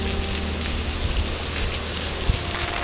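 Heavy rain pours steadily onto a street in Seoul, a dense, constant hiss of drops hitting pavement with occasional louder splashes, close and unbroken, with no voices.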